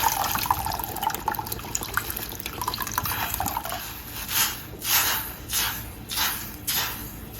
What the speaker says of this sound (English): Gonna add some pineapple juice.